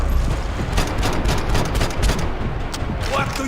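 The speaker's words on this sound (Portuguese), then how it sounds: "Pega ele! Tiroteio!" Gunfire rattles through a shootout in Max Payne 3, with dense overlapping shots and bursts that carry on steadily at close range under shouted voices.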